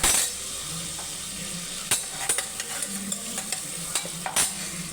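Crushed garlic frying steadily in a hot pan, a continuous close sizzle broken by several sharp clinks and scrapes of a utensil stirring against the metal.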